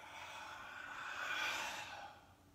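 A slow, audible exhale of breath during a guided breathing and movement exercise, a soft airy rush that swells and fades over a couple of seconds with no talking.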